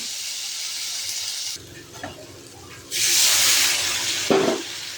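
Amra chutney in a hot pan hisses and steams in two bursts after water is added, separated by a quieter stretch with a faint bubbling simmer and a brief clatter near the end.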